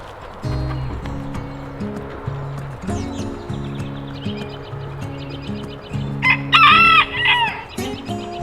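Homestead chickens cluck and squawk up close throughout, with a rooster's loud crow rising near the end over a steady barnyard clamor.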